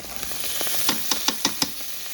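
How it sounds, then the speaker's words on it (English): Ginger and garlic sizzle steadily in a hot pan while a utensil stirs them, giving a few sharp scraping clicks against the pan over the continuous frying hiss. "Let's give that a stir."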